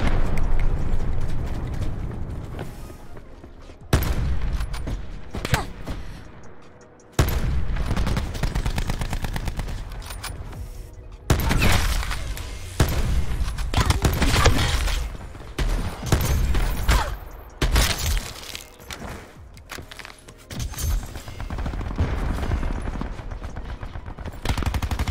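Shotgun blasts in a first-person shooter game, a series of loud, close booming shots spaced irregularly with brief lulls between them, layered over busy combat noise.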